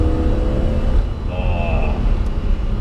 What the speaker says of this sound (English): just listen to the engine